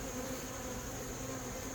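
Carniolan honeybees swarm around a horizontal hive during a late-season inspection, producing a steady, continuous buzz that holds at an even level throughout with no talking.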